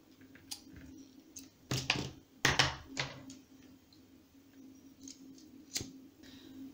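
Scissors snip the excess cords of a beaded braid friendship bracelet, a few quiet sharp cuts and clicks in a mostly still room.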